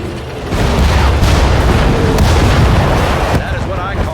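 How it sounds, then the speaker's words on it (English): Howitzer artillery barrage in the WWII strategy game Sudden Strike 4, Battle of El Alamein in the desert: dense, continuous loud booming rumble of shelling filling the whole stretch. "The howitzers are ready to shoot."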